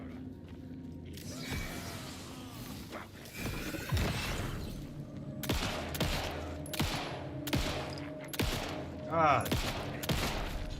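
Gunfire in the video game The Outer Worlds 2, a run of sharp shots and bursts in uneven succession over a dense game soundscape, with a brief voice exclamation.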